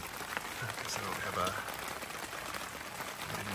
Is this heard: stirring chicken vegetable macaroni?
no